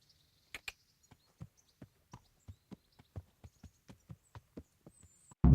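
Sharp hoof clops of a horse in the video game Kingdom Come: Deliverance ring out one after another at a slow, uneven walking pace, clear against near silence, before a sudden loud noise at the end.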